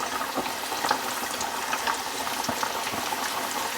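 Catfish nuggets deep frying in hot oil make a constant dense bubbling and crackling roar, fairly loud and close, with no voices over it.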